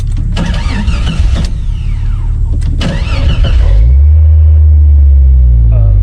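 A V6 Jeep Cherokee engine, running without oil pressure, revs hard and loud close by with a rough rattle through the gear shifts, then settles into a deep, steady low rumble. Voices talk over the first half.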